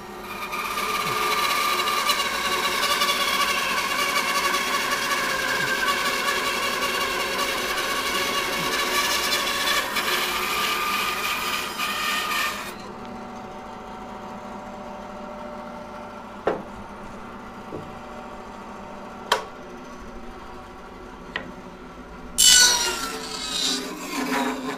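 A saw cuts through a split woodturning blank with a loud, steady, whining rasp for about twelve seconds, then the blade winds down and is jammed to a halt, followed by quieter knocks and handling noises.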